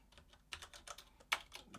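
Rapid keystrokes on a computer keyboard while typing a Docker command, a quick irregular run of light clicks with a couple of sharper taps, close and quiet.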